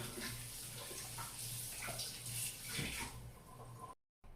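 Hands being washed under a running kitchen tap before baking fudgy brownies, a steady broadband rush of water that continues for about four seconds before cutting off abruptly near the end.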